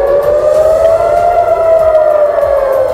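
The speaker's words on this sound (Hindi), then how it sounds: "गाजा से लगे इजरायल के इलाकों में चेतावनी के सायरन बजने लगे।" Civil defense warning sirens sounding in Israeli areas near Gaza, a loud, sustained, slowly wavering wail heard alone and unbroken throughout.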